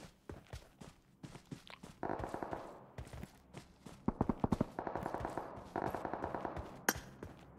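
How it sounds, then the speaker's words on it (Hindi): Gunfire in the BGMI (PUBG Mobile) battle game: rapid automatic bursts and single shots crackle in repeated volleys, mixed with footsteps and clicks, loud and busy throughout. "थोड़ा सा स्प्रे पड़ेगा शैडो का भी"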